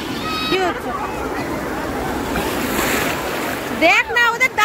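Surf rolling and washing onto the beach at Puri, a broad continuous roar of sea waves with wind noise, while excited voices shout and talk over it near the start and end.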